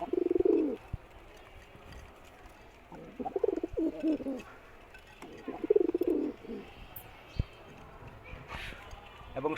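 A pair of Gorra pigeons cooing, several close, soft throaty coos in short bursts separated by pauses, with faint background noise and a voice talking.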